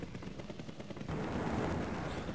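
Rapid machine gun fire from a helicopter in the 1996 MS-DOS game Seek & Destroy, a fast stream of shots that gives way to a louder, denser rumble of explosions, with no talking.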